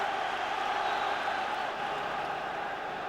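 Football crowd at a 1996 Rangers v Hibs match roaring after a late Rangers goal: a steady, distant wash of cheering from the stands with no single voice standing out.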